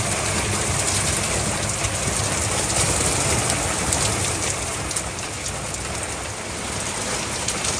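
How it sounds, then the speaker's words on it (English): Heavy, steady downpour in a British autumn flood, with water running like a river past a house; dense, loud rain hiss fills the whole clip without letup, and no voices are heard. "This is the most rain we've ever seen since we've been here."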